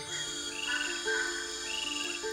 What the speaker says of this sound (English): the chorus from the other frogs is deafening.